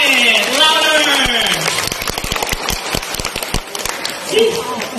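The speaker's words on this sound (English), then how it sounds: "Clap your hands. Everybody, try it. Louder." An audience at a sea lion show claps hands, producing a flurry of uneven, close claps in the middle stretch, with a voice talking before the claps and crowd sound after them.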